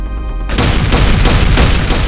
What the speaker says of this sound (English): This is an auto shotgun.